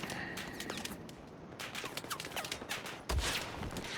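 A sniper shot rings out in the video game Battlefield 4 on the Metro map, heard as a sharp report near the end amid a busy backdrop of distant gunfire, clatter and footsteps.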